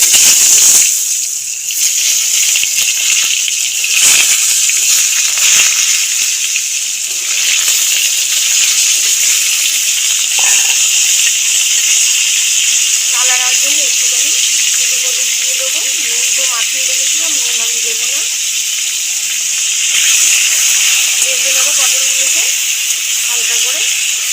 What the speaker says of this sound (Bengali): তেল গরম হয়ে গেছে আগে দিয়ে যে পটলটা কেটে নুন মাখিয়ে রেখেছিলাম পটলটা